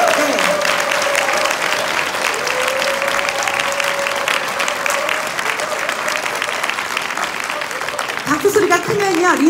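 Sustained audience applause fills a hotel seminar hall at the close of an overnight business seminar, dense and steady throughout, with voices mixed in and a brief swell near the end.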